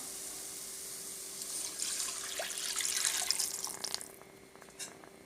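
Rinse water from a grinder jar used for ground tomatoes is poured into a simmering paruppu urundai kulambu, a faint splashing trickle that swells for a couple of seconds, then tapers off with a few drips.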